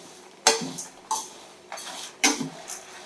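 Dal and curry leaves dry roasting in a pan for idli podi are stirred in short bursts, making four or five dry, rattling scrapes with crackly rustling, close and fairly loud.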